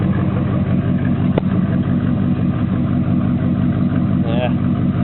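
An LQ4 6.0-litre V8 swapped into a 1995 Chevy Tahoe runs loud and close, a dense low engine rumble holding steady throughout the clip, with a voice speaking briefly over it.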